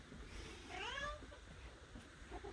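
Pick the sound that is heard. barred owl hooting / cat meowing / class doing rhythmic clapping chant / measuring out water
cat meowing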